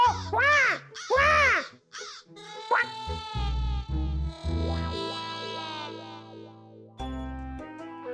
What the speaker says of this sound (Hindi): बेबी शायद कौवा है.